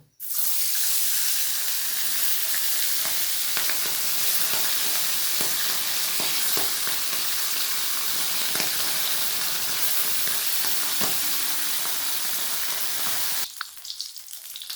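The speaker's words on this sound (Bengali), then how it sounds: "এবার আমি একে একে মাছগুলো ভেজে নেব।" Small fish frying one after another in hot oil for a Bengali fish curry with eggplant, a loud steady sizzle with crackles and pops running throughout, cutting out abruptly near the end.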